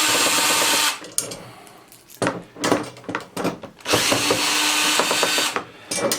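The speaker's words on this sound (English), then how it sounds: "We're just going to put that Phillips head right into those screws, back those right out." A power driver with a Phillips head backs screws out of a TV wall mount, whirring in several loud bursts separated by short pauses, close up.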